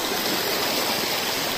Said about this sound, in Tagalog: Dito naman tayo sa magandang ilog.